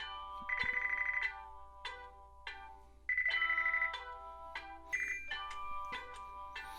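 Incoming-call ringtone from a Pioneer FH-X731BT Bluetooth car stereo: a bright electronic melody in repeated short phrases with brief pauses between them, clear and close, with no talking.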